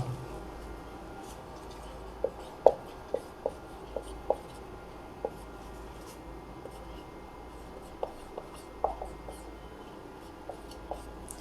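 Pen or pencil writing on paper while class 12 maths working is noted down, a faint steady scratching with a dozen light taps and strokes, close and quiet, with no talking.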